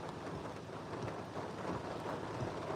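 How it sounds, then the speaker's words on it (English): Heavy pouring rain outdoors along a twisty road, a dense continuous hiss of drops with low rumbling underneath, steady and loud throughout with no talk. "It's pouring rain now, more than before."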